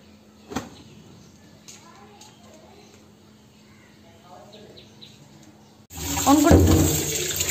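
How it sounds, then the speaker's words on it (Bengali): A kitchen tap comes on after a quiet stretch with a single early knock and faint birdsong. Water then gushes loudly and steadily into a sink of dishes and runs to the end. "এই বাসনগুলো সব মাজতে হবে"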